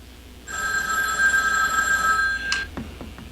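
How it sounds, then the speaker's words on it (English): A telephone bell rings loudly for about two seconds at an informal Knights of Columbus ceremony, then cuts off, followed by a few faint knocks. "We paused again when the phone rang."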